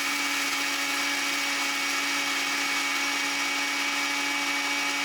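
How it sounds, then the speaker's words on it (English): An electric spice grinder whirs steadily at close range as it grinds flaxseed, pumpkin seeds, sunflower seeds and mixed colored quinoa, a constant high motor whine with no pauses and no talk. "this is my little spice grinder, some flaxseed, pumpkin seeds, sunflower seeds, a mixed colored quinoa, and then I'm just gonna grind all of that together."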